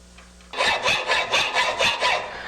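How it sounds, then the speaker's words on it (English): A 10-inch round file rasping a miter into a steel bicycle frame tube at a workbench, seven even back-and-forth strokes in quick rhythm, close and crisp. "I've got a 10-inch round file here, and that cuts a pretty nice 3/8 radius"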